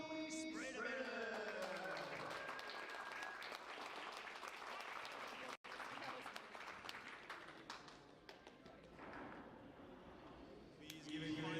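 A crowd applauds the mixed doubles podium at the Tornado World Series gold final, with sustained clapping and faint voices over a reverberant hall before it thins toward the end.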